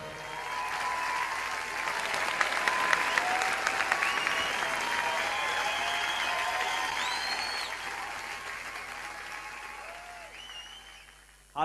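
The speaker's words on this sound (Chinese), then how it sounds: "大家再次热烈的掌声" Sustained audience applause at a Chinese-language singing show fills the room, dense and even, swelling early and slowly tapering off, with faint voices and whistles mixed in.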